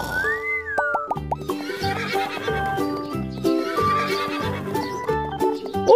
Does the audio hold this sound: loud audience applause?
no